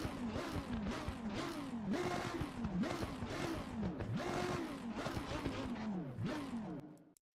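A Lamborghini Huracan GT3 Evo 2 race car engine revs hard against the limiter through repeated gear shifts, its pitch climbing and dropping in a rapid sawtooth before cutting off abruptly at the end.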